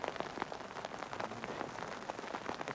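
Steady rain falling on a reservoir during a fishing trip, a dense patter of drops striking the water and nearby surfaces, constant and fairly soft throughout, with no speech.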